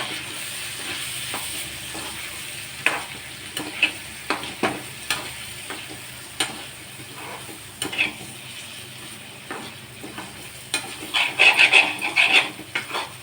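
Mutton kelly fry with masala is stirred in a pan over a steady sizzle, with repeated close scraping strokes that grow busier toward the end.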